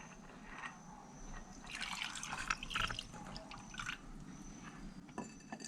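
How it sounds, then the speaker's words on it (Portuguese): Water is poured into a self-watering clay pot filled with pebbles and a wick cord, giving a faint, close trickle and splash that swells midway and then eases. "e agora vamos colocar água"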